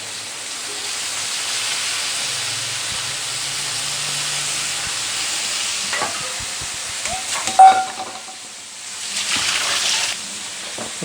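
Mixed vegetables for a curry, including carrot pieces and potatoes, fry in a pan with a steady soft sizzle, and a few scrapes and clinks of stirring come near the end.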